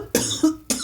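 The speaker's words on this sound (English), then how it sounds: "I'm sorry about all the coughing." Three quick, sharp coughs in a row from one person indoors, close and fairly loud, with short gaps between them.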